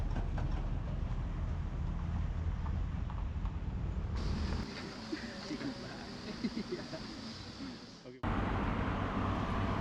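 A tram rolls along a street in Rabat, Morocco, with a continuous rumbling, hissing rail noise and faint clatter, blended with distant traffic and steady from start to finish.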